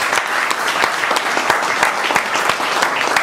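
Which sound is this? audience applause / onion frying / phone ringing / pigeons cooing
audience applause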